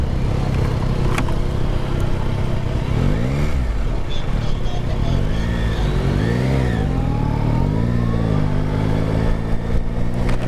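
A Yamaha Tracer 9 sport touring motorcycle's engine runs loud and close, with rising and falling revs sweeping up and down over a continuous rumble.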